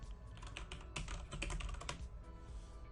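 Quick, uneven clatter of fingers typing on a computer keyboard, with clustered keystrokes heard close up and alone.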